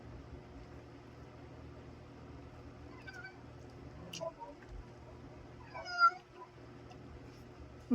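A pet cat meows a few times from somewhere in a quiet room, short soft cries spaced apart over a low background hum, with a clearer louder meow near the end.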